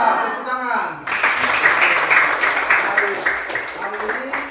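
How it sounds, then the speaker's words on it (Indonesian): Students in a classroom break into clapping after a brief spoken moment, and the applause continues evenly, close and fairly loud, for a few seconds. "Mantap, tepuk tangan."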